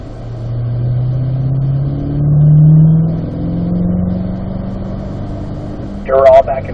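A Chevrolet Corvette C8 accelerating on a racetrack, engine tone rising and dropping through gear changes as a steady droning pull, heard from inside the car, with a voice speaking briefly at the end.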